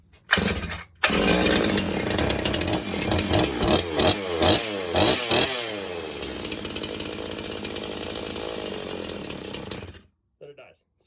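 A rebuilt Stihl 360 chainsaw engine starts and revs loudly and close up in uneven bursts, then settles into a steady run for several seconds before cutting out abruptly.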